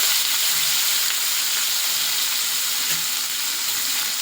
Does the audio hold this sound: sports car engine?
no